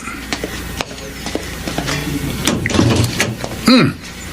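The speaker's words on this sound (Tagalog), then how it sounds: "Ako na magbubukas ng pinto." A house door is opened with a clattering latch and scraping movement, ending in a loud creaking swing, fairly close in a dramatized radio story.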